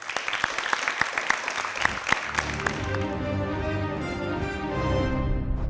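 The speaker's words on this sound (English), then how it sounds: "Let's give another loud round of applause for the schools who got this far" Loud applause from an audience cheering schools in a debate competition, dense clapping for the first couple of seconds that swells into sustained crowd clapping mixed with a warm musical swell.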